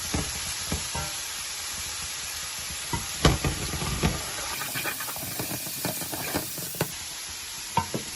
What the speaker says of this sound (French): Je vais faire revenir les oignons pour le moment, jusqu'à ce que l'oignon soit cuit.